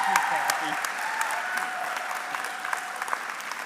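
Audience applause at a Durham College convocation ceremony in the Greater Toronto Area, a steady wash of clapping from a large crowd, with a voice talking faintly underneath throughout.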